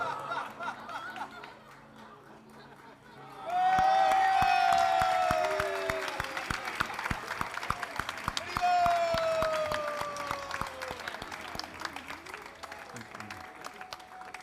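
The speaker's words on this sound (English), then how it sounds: "can we have a big round of applause once again for both Ramani and Vrindavan?" Audience applause and cheering for performers Ramani and Vrindavan, a broad swell of clapping that jumps up loudly, peaks, then tapers into scattered claps, with chatter and voices mixed through the crowd noise.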